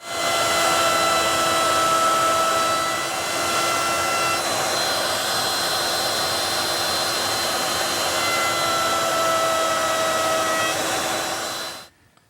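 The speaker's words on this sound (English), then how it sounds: "To make the bull nose, I'm going to use my 1/2 inch radius roundover bit" A router fitted with a 1/2 inch radius roundover bit shapes a bull nose edge on a library shelf piece, a continuous loud whining roar that runs steadily for about twelve seconds, then stops abruptly.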